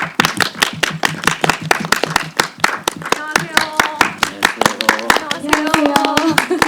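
An audience at a film screening's guest talk claps to welcome the director and actors, a dense round of close hand claps that builds steadily, with voices rising underneath toward the end.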